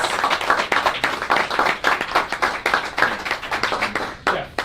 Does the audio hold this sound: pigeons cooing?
no